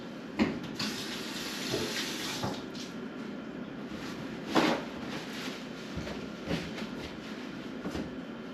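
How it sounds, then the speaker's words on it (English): Hands being rinsed under a running kitchen tap while cooking beef stew, a steady broadband rush of water lasting several seconds, with brief louder splashes as the hands move through the stream; no talking. "I'm going to give my hands a rinse"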